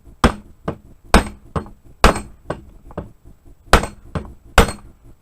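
Hammer striking a stuck pin on an SKS rifle, about ten sharp metallic blows in uneven pairs, close and crisp with short ringing tails and quiet gaps between.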